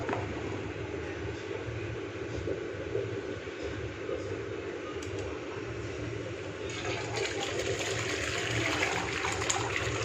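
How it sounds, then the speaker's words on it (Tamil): Steady rushing water pours and drains continuously through a strainer, a broad wash of trickling and splashing that grows a little brighter near the end. "தண்ணி நல்லா வடியட்டும் இந்த மாதிரி வடியணும்"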